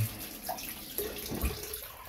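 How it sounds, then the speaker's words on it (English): Tap water splashes briefly into a bowl of shaving soap, a short uneven trickle with soft drips in a quiet room. "just add a little bit of water to this"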